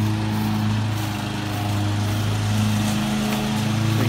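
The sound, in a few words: lawn mower mowing grass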